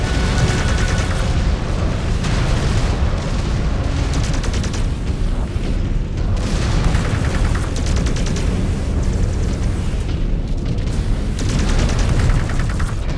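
Weapons fire from battling mechs in MechWarrior 5 pounds without pause, dense loud booms and gunfire bursts layered into a constant roaring barrage.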